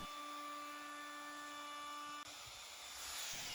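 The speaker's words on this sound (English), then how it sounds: "in this case I'm doing a climb cut, which inherently can be dangerous" A router with a round-over bit makes a climb cut along a wooden blank, giving a high steady whine with strong harmonic tones that shifts abruptly partway through as the cut changes.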